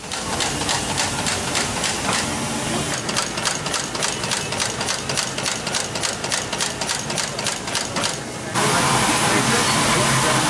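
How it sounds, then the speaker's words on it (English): A pneumatic stapler fastens a leather shoe upper and lining onto the insole during Goodyear welted shoemaking, firing rapid repeated staples in a steady rhythm over a constant machine hiss, then stopping into a loud steady whoosh. "he's stitching, or stapling rather, the upper and the lining onto the insole"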